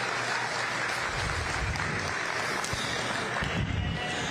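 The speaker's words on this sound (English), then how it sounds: "Let's give them a big round of applause" A crowd applauding youth showmen at a county youth fair livestock show, dense continuous clapping heard for several seconds with a rumbling low background.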